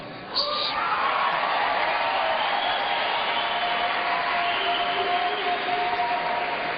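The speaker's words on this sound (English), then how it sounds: "Waiting for the applause." A debate audience in Orlando, Florida breaks into sustained applause and cheering, a steady dense roar of many hands that holds at an even level from start to finish.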